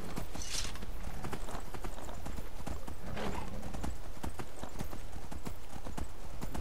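A horse trots at a steady pace in the Skyrim video game, its hooves clip-clopping in quick regular beats throughout, with a brief whinny and faint game ambience beneath.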